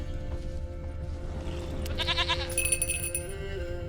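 In The Witcher 3, a goat gives a short bleat over a low, steady outdoor game ambience, and a bright chiming tone follows soon after.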